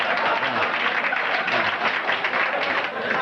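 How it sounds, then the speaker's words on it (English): Comedy club audience applauding a stand-up comedian, a brief, fairly loud burst of scattered clapping from the crowd, alone without talk. "thank you for bordering on applause"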